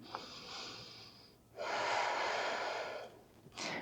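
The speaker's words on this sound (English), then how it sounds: "Inhale and exhale, both legs are active." A person breathes during a yoga class, with a soft inhale followed by a long, audible exhale through the nose and the start of another breath, close and clear with no talking.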